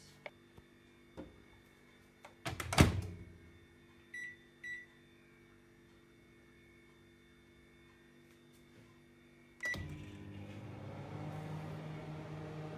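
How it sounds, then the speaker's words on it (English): A microwave hums steadily after a door clunk and a few beeps, its running drone continuing to the end in a quiet room. "while the microwave is going"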